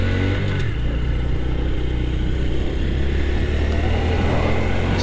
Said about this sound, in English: Accelerate out of the turn and onto the back road.